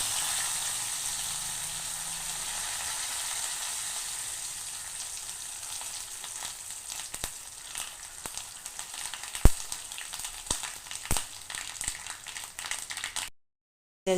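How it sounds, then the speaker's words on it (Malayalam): Mustard seeds splutter in hot oil for an Onam sadya pumpkin and cowpea puzhukku: a constant close sizzle broken by sharp, scattered popping crackles that grow more frequent toward the end, with no talking. "മത്തനും വെള്ളപ്പാറുമായ പുഴുക്കിലേക്കാണ് ഈ കടുക് പൊട്ടിക്കുന്നത്"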